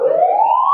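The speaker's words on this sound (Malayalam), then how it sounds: "4 മണിയോടെ ആദ്യത്തെ സൈറൺ മുഴങ്ങുകയും ചെയ്തു" A mock drill warning siren wails loud and steady on its own, its tone slowly rising throughout the short stretch.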